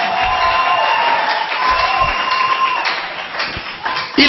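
A church congregation applauds and cheers loudly in acclamation of the king, a dense, continuous wash of clapping with voices mixed in and a sustained tone running through, swelling again at the end.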